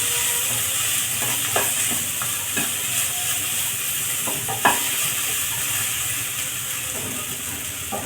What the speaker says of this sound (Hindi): आलू हमारा फ्राई हो गया है